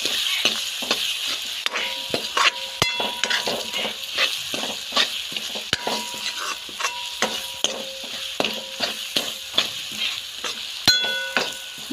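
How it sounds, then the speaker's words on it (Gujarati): Ground spices, salt, coriander-cumin powder and garam masala fry and sizzle in a pan for dhaba-style paneer curry, with steady frying hiss and repeated sharp spoon scrapes and clinks against the pan, close and clear. "મસાલા થોડા આપણે શેકાવા દેવાના છે."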